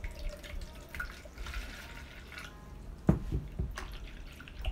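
Water for homemade bubble solution trickles and drips into a container, with a few soft knocks and splashes, fairly quiet with no talking.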